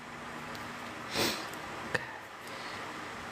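One soft sniff near the microphone, then a brief click a moment later, with quiet room noise and no speech.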